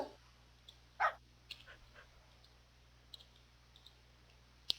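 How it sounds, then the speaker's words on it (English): Pet dogs in Minecraft give a few short, sharp barks and yips, faint and scattered over a quiet background. "I like having dogs around here. I like the noises that they make."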